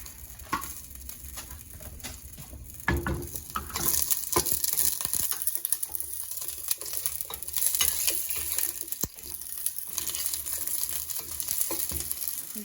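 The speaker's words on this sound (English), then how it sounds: "Give it a little stir" Collard and turnip greens being stirred in a pot, with scraping, rustling and light sizzling that runs steadily and close up, with no one speaking.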